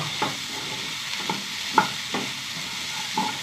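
Okra stir-fry (upperi) frying in a pan, with a steady soft sizzle under several sharp scraping clicks of a spatula stirring the vegetables at irregular intervals, close and moderately quiet.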